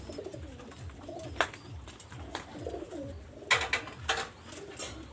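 A pair of flying-breed pigeons coo in repeated low rumbling phrases, one after another, with occasional sharper clatters and rustles of wings or cage nearby.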